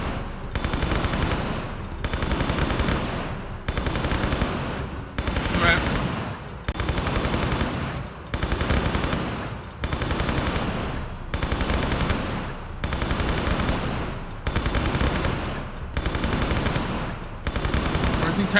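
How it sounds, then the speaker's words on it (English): Sustained automatic gunfire in the video game Tomb Raider III, coming in regular bursts of about a second and a half separated by brief gaps, loud and repetitive. "Shooting him like this?"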